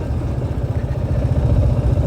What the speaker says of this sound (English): 30 kilometers per hour is the minimum speed this motorcycle can comfortably do without straining the engine